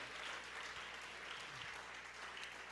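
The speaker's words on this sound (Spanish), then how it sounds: "Dale fuerte ese aplauso" Congregation applauding at a Christian church service, a steady, even wash of clapping from many hands held at a moderate, somewhat distant level for the full stretch.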